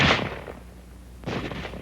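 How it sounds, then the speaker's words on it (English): Two sharp rifle reports from a bolt-action rifle in a 1945 military small-arms training film, the first at the very start and the second about a second later, each loud and close with a short decaying tail. "will fire each time the bolt is operated and the trigger is squeezed"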